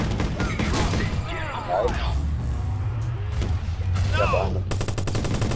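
Rapid bursts of gunfire during a Watch Dogs multiplayer firefight, crackling in quick volleys under excited players' voices talking over one another.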